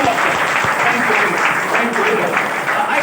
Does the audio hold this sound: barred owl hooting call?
no